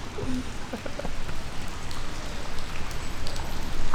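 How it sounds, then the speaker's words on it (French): Steady rain falls outdoors in the town of Melun, a constant hiss of drops with a few brief spatters, fairly close and without any talking. "Par contre, la pluie, on en parle."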